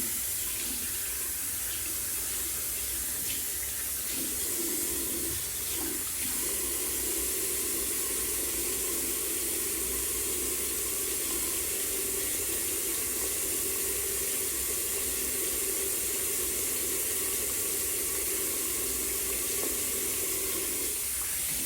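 Water runs steadily from a tap into a sink while a comb is washed under it, a constant close hissing splash that shifts slightly in tone as the comb moves through the stream, with no talking.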